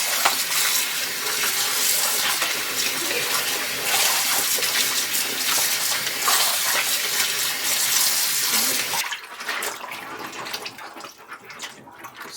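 Tap water runs hard into a sink while small yellow croaker fish are scrubbed clean, a loud steady splashing rush for about nine seconds before it cuts off, leaving quieter drips and handling sounds.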